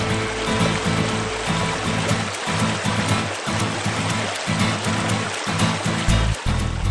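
River water rushing and flowing steadily, with a dense, continuous wash that stays loud throughout and no talking.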